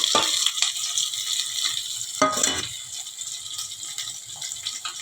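Grated coconut roasting and being stirred in a hot pan for a coriander-leaf chutney, a steady close sizzle with scraping stir strokes, one louder burst partway through, and no talking.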